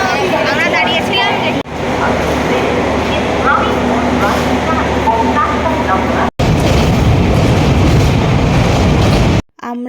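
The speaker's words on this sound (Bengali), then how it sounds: "দেন ফাইনালি আমাদের ট্রেন ছাড়লো" The Tebhaga Express passenger train pulls away with a steady rumbling, clattering roll of carriages. Nearby voices talk over the train noise, and the sound cuts out briefly twice.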